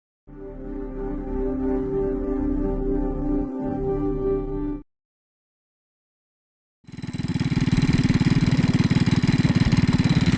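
A motorcycle engine runs steadily up close in rural Laos, cuts out for about two seconds of silence, then starts again with a louder, harsher throbbing idle.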